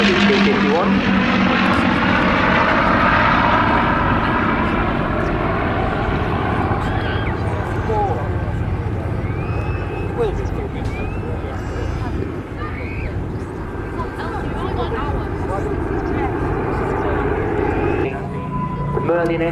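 A Spitfire Mark 19 with a 36.7-litre Rolls-Royce Griffon engine roars overhead at an airshow, loud at first and then fading as it passes, with a commentator talking over it.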